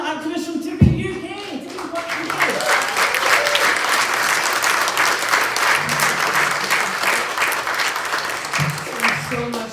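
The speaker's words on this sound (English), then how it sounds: "Please give a huge round of applause" A May Day rally crowd in Edinburgh bursts into loud applause and clapping that holds strong and steady for several seconds, with a brief voice audible at the very start before the clapping takes over.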